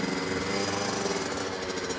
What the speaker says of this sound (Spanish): Se abre la válvula de escape.